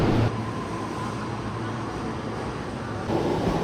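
A double-decker Joban line train in Tokyo rumbles past as a broad, steady roar of wheels and motors, moderately distant, with no voices.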